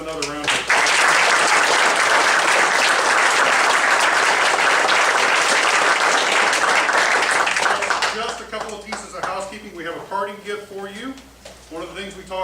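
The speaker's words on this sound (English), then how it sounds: "Let's give them another round of applause" An audience at a candidate forum breaks into sustained, dense applause for about eight seconds before it thins into scattered claps and fades away.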